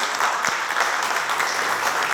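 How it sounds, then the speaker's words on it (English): Sustained clapping from a crowd, dense and steady for the whole stretch, with no voices over it. "one more round of applause for Barbara"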